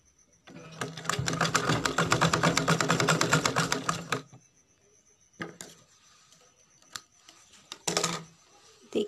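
Sewing machine stitching a plain blouse, a fast rattling run of needle strokes for about four seconds, then stops and a few short clicks and bursts as the fabric is handled.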